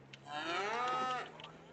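A Holstein milk cow in Farming Simulator 25 gives a single clear, close moo, swelling and fading over about a second, alone against a quiet farm background.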